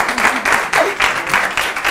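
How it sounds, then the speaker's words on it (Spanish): A school audience at a Spanish show applauds in uneven bursts, the clapping close and lively, rising and dipping several times over a couple of seconds. "Un aplauso"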